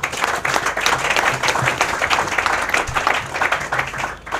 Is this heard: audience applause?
yes